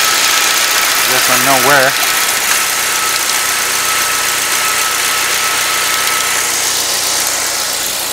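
A 2008 Saab 9-3 2.0T engine idles steadily up close with an occasional random misfire, a low continuous hum with faint irregular stumbles, while someone talks briefly over it.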